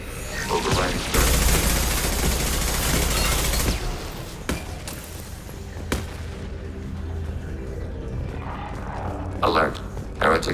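Sustained turret gunfire from Mass Effect 2 rattles through the first few seconds as a dense, loud fusillade, then gives way to scattered sharp shots, thumps and mechanical noise, with game voices speaking over parts of it.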